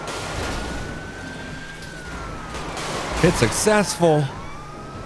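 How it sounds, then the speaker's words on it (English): Police car sirens wail faintly in the distance, rising and falling slowly, while a person speaks briefly nearby over steady background noise. "there's police cars flying around back there."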